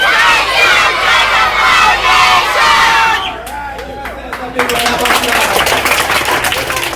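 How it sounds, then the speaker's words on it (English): A gathered crowd at a hurricane disaster relief event in Jamaica claps and cheers for itself, loud and close, with mixed voices and chatter throughout, a brief lull near the middle, then renewed dense clapping. "Clap yourselves, you're doing well."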